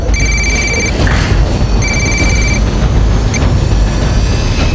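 Telephone ringing with an incoming call, two electronic ring bursts spaced about a second apart, clear over a steady low rumble of background noise.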